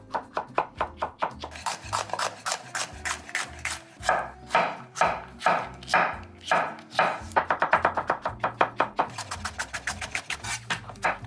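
A knife chops mild hot peppers on a wooden board, knocking out rapid, uneven bursts of sharp close thuds with short pauses between runs.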